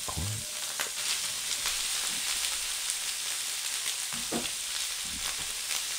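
Corn sizzles steadily in butter in a pan, a soft constant hiss broken by a few light scrapes and stirs, close and quiet with no voices.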